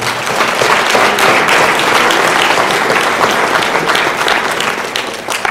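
Sustained applause from an audience honoring coaches at a high school fall sports awards night, a dense, steady wash of many hands clapping for several seconds before tapering slightly.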